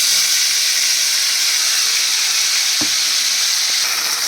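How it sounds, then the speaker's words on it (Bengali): A paste of ginger, cumin and chili sizzling loudly in hot oil, a dense steady hiss of frying with a brief clunk near the end, close and continuous without speech. "তখন আমি দিয়ে দিচ্ছি এই দেখো মশলা। এইখানে আমার আদা, জিরে আর লঙ্কা বাটা।"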